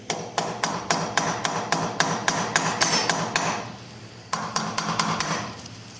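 Repeated sharp metal hammer strikes on a carbon-locked adjustable gun gas block in a steady rhythm, a long run of blows, a pause, then another quicker burst of hits.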